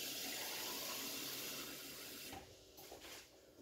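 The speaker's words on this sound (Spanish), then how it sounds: "Y también vamos a añadir medio vaso de agua." Half a glass of water poured into a stew pot of potatoes and beef, a steady close rushing splash that tapers off and stops partway through.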